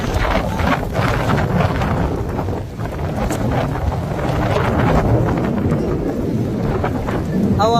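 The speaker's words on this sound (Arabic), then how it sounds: "هواء غزير وأمطار غزيرة ما شاء الله." Strong storm wind in Mecca, Saudi Arabia buffets the microphone in loud, continuous gusts mixed with heavy rain and low rumbling, with no clear speech.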